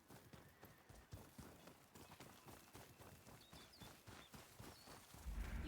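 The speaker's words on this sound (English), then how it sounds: "Samurai horses." Horse hooves clip-clop steadily in Ghost of Yōtei, a brisk repeated rhythm of hoofbeats at moderate distance, with a louder thump near the end.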